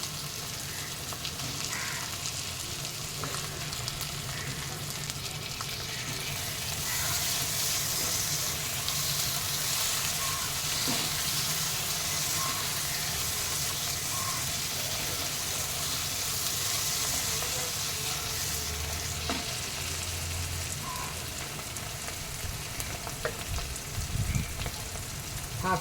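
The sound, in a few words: prawns frying in masala, stirred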